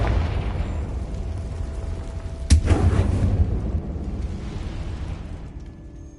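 A blasting-spell explosion in the Hogwarts Legacy video game, cast with Confringo, hits as one sharp, loud boom that rumbles briefly and fades over a couple of seconds, set against a steady ambient game background with no talk.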